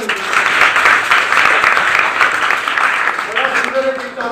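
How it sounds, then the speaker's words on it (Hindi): A college audience claps loudly and continuously for several seconds, a dense wash of applause that begins to thin as a voice starts speaking near the end. "एक बार तालियां बजा दो।"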